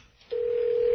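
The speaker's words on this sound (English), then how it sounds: "I'm dialing up the phone so you can talk to the hearing aid lady" A telephone being dialed to reach someone: a single steady tone comes in after a brief quiet start and holds loud and unbroken to the end, with no voices over it.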